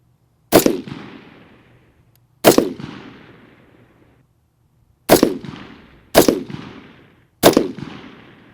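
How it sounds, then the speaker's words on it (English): Five rifle shots fired at a range while zeroing the weapon, each a loud sharp crack with a short decaying tail, spaced irregularly over several seconds with silence between them. "All right, Cleland, let's go ahead and put down another 5-shot group."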